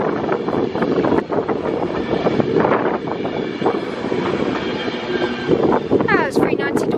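A Class 390 train, City of Northampton, passing through Crewe station on a London Euston to Edinburgh service, a loud close rumble with rhythmic wheel clicks and a brief squeal near the end, under announcer talk.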